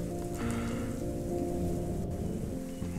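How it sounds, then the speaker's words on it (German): Rain pours down on an island in the city-building game Islanders, a loud, steady hiss of drops with a low rumble beneath and a faint musical tone layered through, no voices present. "es regnet, ist mir noch gar nicht aufgefallen."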